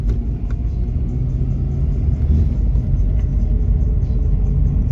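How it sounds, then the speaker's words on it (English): A Honda car's transmission abruptly kicks into first gear while driving. It sounds like a loud, steady low engine and road rumble throughout, with no voices. "this thing's just kicked into first gear. It like stops the car."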